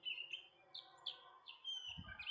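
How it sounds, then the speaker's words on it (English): Several songbirds singing in a sunny fall garden, a run of bright repeated chirps and short phrases at moderate distance, with a brief low thump near the end. "the sun is shining and the birds are singing"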